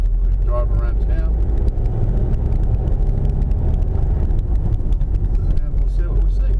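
A car driving around a small seaside town early in the morning, a steady loud rumble of engine and road noise heard from inside throughout.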